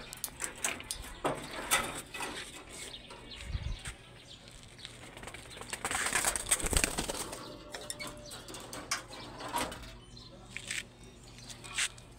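A domestic pigeon coos softly in low, muffled bursts, accompanied by scattered rustling, light tapping and brief wing flutters at close range in a quiet space.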